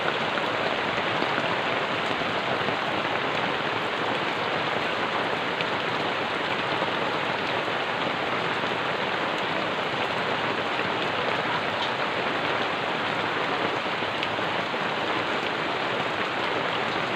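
About an inch of rain falls with water pooling, a steady, dense hiss that never lets up, a constant close patter on surfaces with no voices or other sounds.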